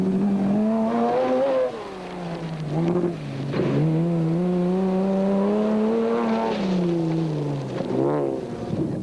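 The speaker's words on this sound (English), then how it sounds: "The Jeep of Voigt and Abraham has got past the Dakar Pajero of Carolyn and Testiga and was closing on Barker's Land Rover." Off-road rally cars, including a Jeep, a Dakar Pajero and a Land Rover, race on dirt tracks in the 2001 Lichtenburg 400, their engines droning and revving loudly with shifting pitch as they push on and close in.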